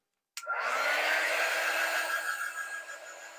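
A hair dryer blowing on a craft project switches on abruptly and keeps up a loud, steady whirring hum with no talking.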